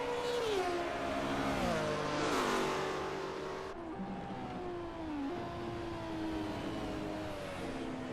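Ford Capri 3-litre race cars roar past in a sim racing game at Watkins Glen, engines droning loud and steady with rising and falling pitch as they accelerate and shift, no talk over them.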